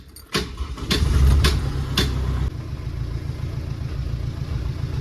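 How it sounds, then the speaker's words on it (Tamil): Tata Sumo Gold engine cranks and catches with a few sharp bursts, then settles into a steady, close-up idle rumble. "இப்போ வண்டியை நான் ஸ்டார்ட் பண்ணுறேன்."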